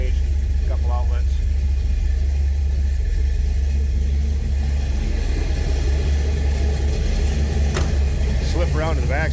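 A 1972 Chevrolet Chevelle with a 396 V8 runs steadily in a deep, loud rumbling idle, with a person talking over the engine.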